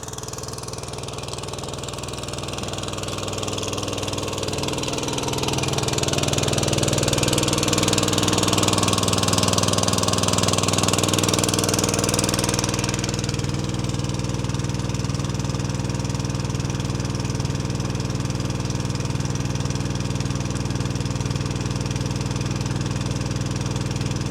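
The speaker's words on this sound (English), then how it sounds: "The pump's only just idling." The pump engine on a twin-steer Kenworth truck runs at idle, a steady mechanical drone that swells slightly in loudness and then holds constant for the whole stretch, with no talk.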